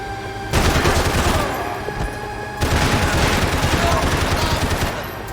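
Sustained automatic gunfire from the Max Payne 3 video game, two long, loud, dense bursts of rapid shots with a brief lull between them.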